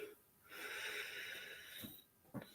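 A person yawns close by, a long breathy drawn-out exhale lasting about a second and a half, followed by a short sharp breath near the end.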